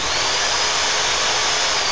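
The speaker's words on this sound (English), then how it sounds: "how to play Guitar Hero with the power drill" A power drill whirs continuously at full speed, a loud steady motor whine filling the whole stretch with no pauses and no voices.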